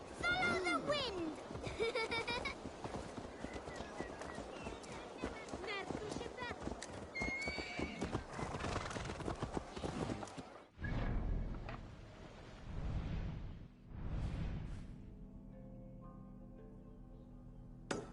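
Horse hooves clip-clop in Assassin's Creed Valhalla, mixed with whinnies and game music, followed by a few bursts of louder galloping and movement near the end.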